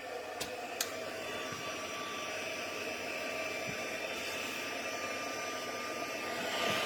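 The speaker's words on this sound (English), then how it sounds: "Let's warm our heat tool up." A handheld heat tool for crafting runs with a steady, close whooshing hiss of blown air, constant and even throughout, with a couple of faint clicks near the start.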